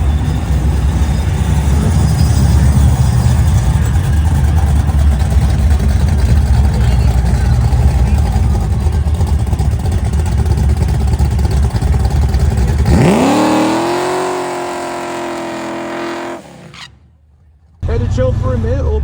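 Drag racing car engine running hard with a loud, sustained roar, then a rising rev sweep and an abrupt drop near the end, with brief silence before sound resumes.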